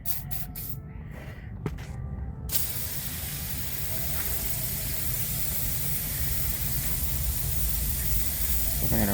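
A spray can blasting into the 4WD actuator of a Chevy Trailblazer 4x4 gives a steady, close, broadband hiss lasting several seconds after a few short clicks and bursts at the start.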